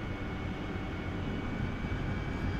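An AV-8B Harrier jet engine in the DCS flight simulator drones steadily during a gear-down landing turn, a dense, constant low-heavy roar with a faint whine, no talking.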